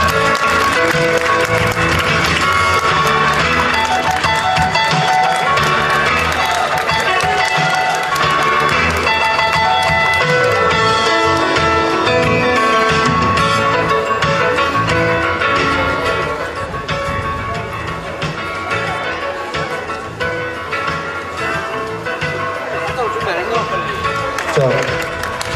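The audience at the 2024 Icheon regional harmony festival in Korea claps in sustained, dense applause that fills the space, with voices and crowd noise mixed in throughout.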